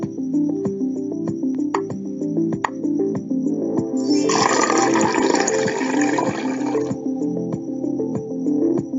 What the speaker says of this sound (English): Pour the vinegar into the opening of the volcanic mountain.